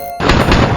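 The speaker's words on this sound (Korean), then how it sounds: "총소리와 함께 문이 열렸다." A single sharp, loud gunshot rings out in a radio-drama scene set in a Seoul hospital in 1950, cutting abruptly out of near silence and leaving a short echoing tail.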